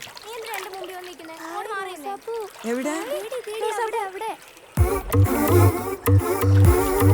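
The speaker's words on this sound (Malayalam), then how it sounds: "എടി വെള്ളം തെറപ്പിക്കില്ലേ" Water splashes loudly and briefly after a stretch of lively talk between people, a sudden wet splattering burst near the end under continued speech.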